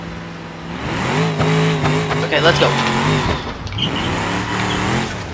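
A 6.9 liter V8 in a BeamNG Drive vehicle revs and accelerates loudly and steadily with rising harmonics and some tire noise, while someone speaks briefly over it.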